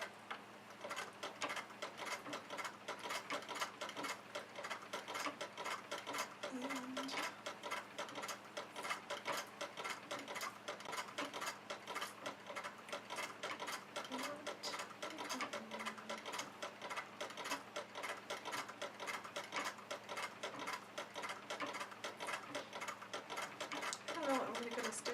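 A sewing machine stitches steadily, its fast, even needle ticking running nonstop at a quiet level, with soft speech now and then.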